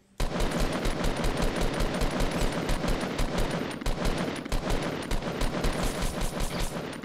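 Rapid automatic gunfire in the Fortnite video game, a dense, continuous stream of loud shots running nearly the whole time with only brief gaps.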